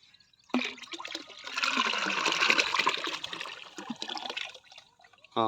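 Water pours into a bucket in a rice field where a crude oil mix is being prepared, a rushing splash lasting about four seconds that starts abruptly and then tapers off.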